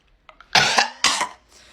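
A voice imitates a kid's cough: a couple of small throat sounds, then two loud, harsh cough bursts up close, ending in a faint breathy tail.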